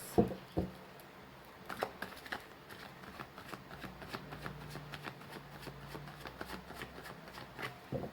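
Tarot cards being shuffled by hand during a reading, a steady run of soft papery riffles and flicks with a few sharper snaps near the start, close and fairly quiet with no talking.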